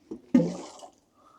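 Water is poured onto seed trays filled with compost, a short close splash lasting about half a second and then quiet.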